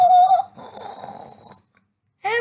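Herbert, a bed monster voiced by a person imitating heavy mouth-breathing, gives a few rough, snoring-like pants, close and loud with short pauses between.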